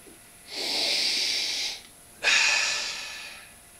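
Two long, close inhaled sniffs through the nose at a glass of Malheur 12 dark beer, the second sharper and louder, separated by a brief quiet gap.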